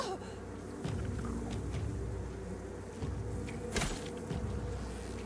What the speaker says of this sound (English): Oh, those are bees.